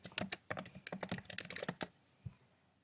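Fingers typing quickly on a computer keyboard to enter an email and username, a close, rapid run of clicky keystrokes lasting under two seconds, then a single late tap before silence.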